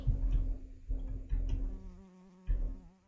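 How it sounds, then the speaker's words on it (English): A cartoonish insect buzz from a bee in a Roblox game repeats in short bursts, with a droning hum running through each one and brief pauses between them. "Oh my goodness, a Minecraft bee."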